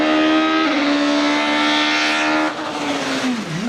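A Peugeot 406 touring car engine, as heard in the film Taxi 2, drones loud and close at high revs, then drops in pitch and swells back up.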